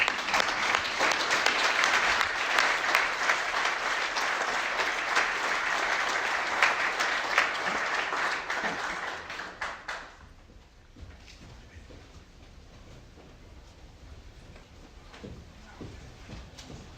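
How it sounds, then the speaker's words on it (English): Audience applause at the Tractor of the Year 2024 award ceremony at Agritechnica, a loud, dense crowd clapping for about ten seconds, then fading to scattered claps and hall murmur. "So an applause for him."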